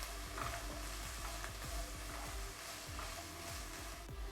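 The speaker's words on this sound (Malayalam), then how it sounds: "ഇനി ഒന്ന് ഇളക്കി കൊടുക്കാം." Onions frying in a pan for boiled egg bhurji, heard as a dense, even sizzle with a rapid series of soft scraping stirs layered through it, close but low in level, with no speech.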